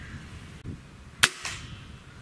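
An airgun, either a Gamo Swarm Magnum or a Hatsan 135 in .30 calibre, fires a single sharp crack during a chronograph test, close and brief, with a quieter echo following.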